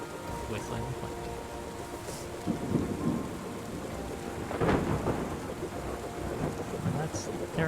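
Rain and thunder in the video game Terra Nil, a steady wash of rainfall with low thunder rumbles swelling twice, alone with no talk.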